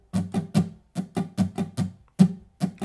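A guitar strums a pop rhythm with about a dozen close, crisp strokes in a bouncy, uneven pattern, with a short gap near the end before it resumes. No voices are heard.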